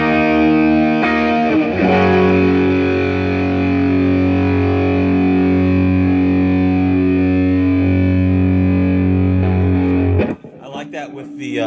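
Electric guitar played through a Tube Screamer overdrive pedal switched on, sounding a loud, sustained distorted chord that rings steadily for about ten seconds before cutting off into a short burst of brighter noise.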